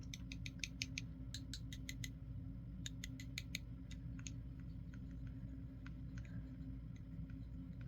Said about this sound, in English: It does seem like the rod did have some of the issue with the squeaking.